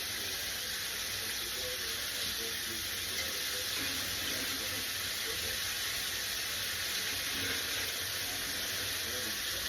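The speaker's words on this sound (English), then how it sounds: "Let me wash my hands off." A kitchen tap runs steadily in a sink while hands are washed, a continuous close hiss and splash holding even for several seconds with faint sounds of movement beneath it.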